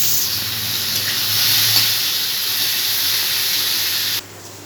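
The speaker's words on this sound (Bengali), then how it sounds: "এবারে পেঁয়াজটা ভেজে নেব" Onions frying in hot oil in a home kitchen, a loud close hiss that stays even for about four seconds before dropping off abruptly.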